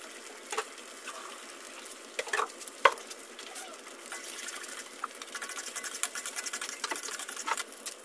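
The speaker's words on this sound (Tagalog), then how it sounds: "Haluin lang natin yan." A spoon stirs a pot of boiling sinigang fish soup made with yellowfin, with a few clinks against the pot at first, then a steady bubbling, sloshing churn up close, without voices.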